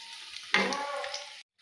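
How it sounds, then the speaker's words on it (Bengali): Cauliflower and coconut koftas fry in hot oil, a bright crackling sizzle that surges loudly after a quiet start and runs steadily for about a second before cutting off abruptly. "দেখুন আমার এই যে লাল করে ভাজা হয়ে গেছে"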